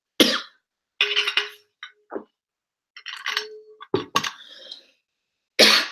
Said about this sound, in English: Having a little coughing fit here.